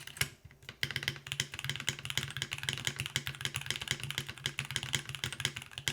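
Fast, continuous clacking of keys on a mechanical keyboard, crisp and close, with a dense rapid rhythm and no voices.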